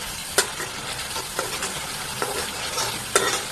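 Mango seeds sizzle and fry in a pan while being stirred: a steady, close frying hiss runs throughout, broken by several sharp scrapes of the spoon against the pan, with no voices.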